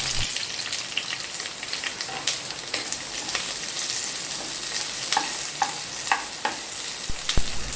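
Large onion pieces sauté in coconut oil for an egg curry, a loud, continuous close-up sizzle broken by occasional clicks and scrapes of a stirring utensil.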